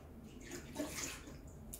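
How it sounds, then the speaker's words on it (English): Water from an espresso machine's drip tray, on a Breville Dual Boiler BES900, poured into a kitchen sink, a soft continuous splashing rush lasting under two seconds, fairly quiet and close, with no talking. "Alright, I'm gonna dump this in the sink."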